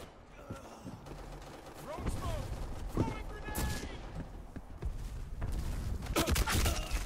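Gunfire in the online shooter Black Squad: a few loud, sharp gunshots and clattering weapon mechanics sound through game noise, with a player's voice talking over it.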